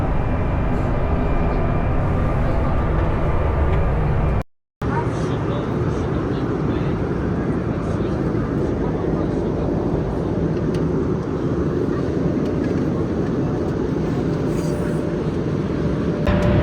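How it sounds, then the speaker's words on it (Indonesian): Steady, loud broadband cabin roar inside an Embraer jet in flight, a constant airflow and engine hum with a brief dropout, while a person talks over it. "first impression 1 jam pertama di pesawat Embraer ini lebih senyap, lebih smooth, dan nggak terlalu berisik"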